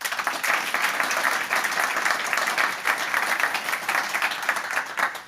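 A summit audience applauds a completed project, producing a dense, even wash of clapping that holds steady for several seconds with no voices over it.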